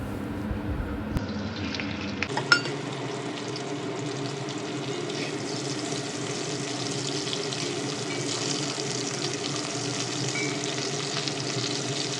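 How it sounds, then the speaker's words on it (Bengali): Hilsa fish head pieces coated in salt and turmeric frying in hot oil while being stirred, a steady dense sizzle that starts up sharply after a quiet moment and continues loud and even throughout. "মাছের মাথার টুকরোগুলো এই তেলের মধ্যে দিয়ে ভালোভাবে নেড়েচেড়ে ভেজে নিচ্ছি"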